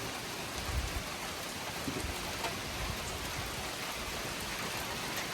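Heavy rain pours down continuously at a campsite in Tobermory, Canada, a loud, even roar of drops with occasional low rumbles underneath.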